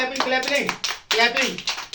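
Children clap in short bursts of quick claps, close and fairly loud, with voices and chatter mixed between the claps.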